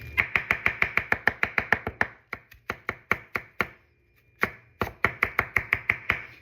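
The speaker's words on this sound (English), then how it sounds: "I'm going to show you guys how to chop some cilantro." A kitchen knife chops cilantro on a cutting board in quick, steady rhythmic taps, close and crisp, pausing briefly partway through before resuming the fast chopping.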